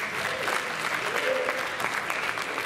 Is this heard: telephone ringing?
no